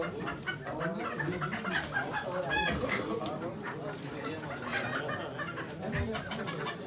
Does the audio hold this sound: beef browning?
no